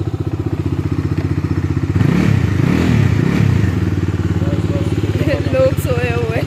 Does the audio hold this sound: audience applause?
no